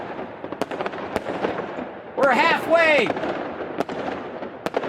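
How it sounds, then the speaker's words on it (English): Fireworks sound effect fired off during a Fallout 4 charity livestream, a burst of whistling, rising shrieks and crackle mid-clip over a steady music bed, with a streamer talking before and after. "Let's go ahead and throw some fireworks down"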